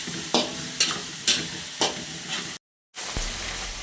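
Bagoong shrimp paste sautés in a pan for pork kare-kare, a continuous sizzle broken by four rhythmic scraping stirs, then a short silent gap before the frying resumes.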